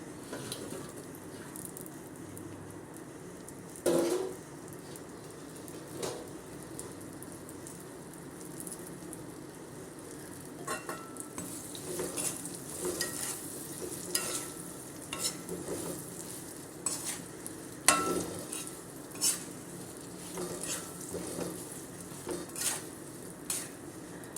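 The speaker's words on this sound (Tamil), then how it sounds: "இப்போ நம்ம இந்த காய வச்ச மாங்காவை எடுத்து இதுக்குள்ளே போட வேண்டியதுதான்" Dried raw mango pieces are stirred in a pan for a sweet mango pickle, giving a steady low sizzle with irregular clinks and scrapes of a spoon against the metal.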